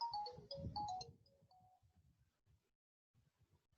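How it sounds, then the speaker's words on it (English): A phone ringtone plays in a short melodic pattern of repeated bright tones, loud at first and then fading, with low rumbling underneath and a brief pause near the end. "there is a phone"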